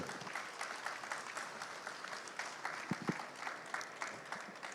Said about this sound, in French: Samuel Coq, vous pouvez applaudir, d'XP France